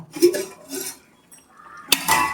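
A plate covering a cooking pot of agathi keerai sambar is lifted off, giving a couple of soft scrapes and then a sharp, close metallic clink followed by brief ringing clatter.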